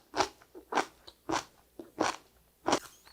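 Crunchy napa cabbage from dongchimi radish water kimchi is bitten and chewed close up, giving five loud, evenly spaced wet crunches with softer chewing between them.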